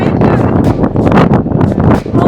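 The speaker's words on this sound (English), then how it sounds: "Oh my goodness, the wind! It's crazy, it's so hard to walk." Strong wind at Bentenjima roars and buffets the microphone in loud, gusty bursts up close, with speech mixed in.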